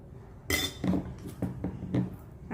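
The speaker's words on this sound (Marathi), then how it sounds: "आणि छानसं एकसारखं तुम्ही हलवून ठेवा" A utensil stirs sweet Gujarati raw mango pickle with salt and chilli in a bowl, giving a run of close, light clinks and scrapes in an uneven rhythm.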